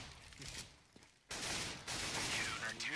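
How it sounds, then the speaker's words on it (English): Gunfire in the video game CS:GO, short bursts of shots after a quiet opening, with a louder rapid volley in the second half amid game noise. "Delpan shoots Kucher and raises on the eco"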